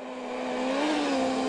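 A new World Rally car in Henning Solberg's Fiesta revs hard on a snowy stage in Sweden, a loud, sustained engine drone that climbs slightly in pitch and holds steady.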